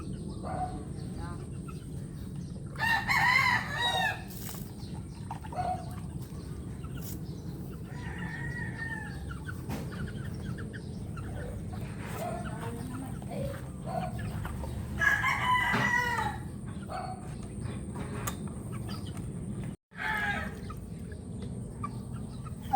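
Hens cluck and call in bursts over a steady farmyard hum, with a rooster-like crow partway through; the birds sound close.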